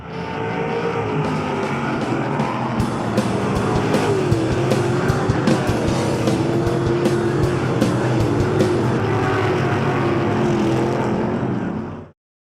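Race cars roar around the dirt half-mile oval at Pennsylvania Motor Speedway near Pittsburgh on a Pure Stock night, a loud continuous engine drone with passing surges and tire scrub, steady for about twelve seconds.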